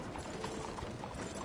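Horse hooves clop in Red Dead Redemption 2, a quick steady patter of hoofbeats at a gallop, moderately loud and continuous over a brief stretch with no speech.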